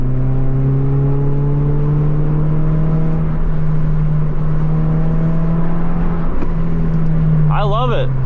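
A 2024 Subaru Impreza RS fitted with a Remark axle-back exhaust holds a loud, close, steady droning engine note, which swells briefly near the end.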